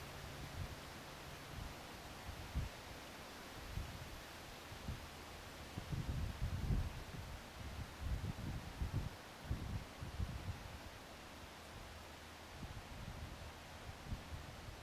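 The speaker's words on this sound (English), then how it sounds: "I just wanted to let the wind talk for a minute there." Outdoor wind blowing in a soft, steady hiss with gentle rustling swells and low gusty rumbles, faint and continuous, no talk.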